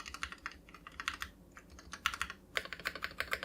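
Steady bursts of key clicks from a mechanical magnetic keyboard with dampened, fairly quiet switches, the taps coming in quick irregular clusters with short pauses, close and clear with no voices.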